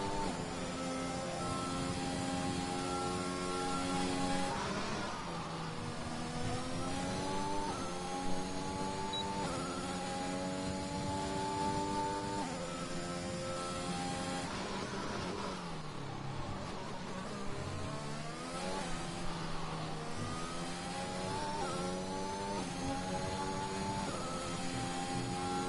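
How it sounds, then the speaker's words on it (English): Race car engine heard from onboard during a lap in an Australian Division 1 round, revving steadily with rising and falling pitch through gear changes and corners, loud and close throughout with no talking. "we're going to listen to his beautiful car and his engine control with nothing else"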